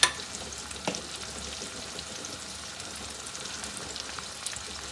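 Spices being stirred around a frying pan while making kofta, a steady broadband sizzle with occasional scraping clicks, close and fairly quiet, with no talking.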